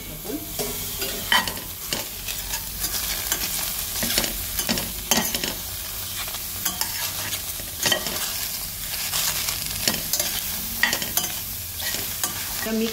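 Peas and tomato with masala are stirred in Healux cookware for veg biryani: repeated scraping and clacking strokes over a steady close sizzle, with no one talking.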